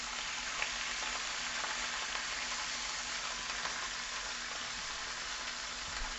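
Chicken pieces browning and searing in a hot pan give a steady, dense sizzle that runs unbroken and fairly close, with no talking over it.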